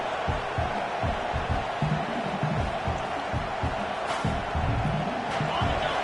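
Stadium crowd at a college football game, a dense steady roar of voices with rhythmic thumping underneath, loud and continuous for the whole stretch.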